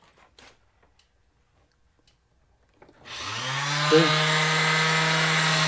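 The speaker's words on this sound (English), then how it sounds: "This is a little sander. I'm going to turn it on. It's going to be noisy for a second." A small electric sander being used on a wooden sledgehammer handle. After a few quiet clicks and a short spoken word, the motor switches on and spins up into a loud, steady, close whirring drone.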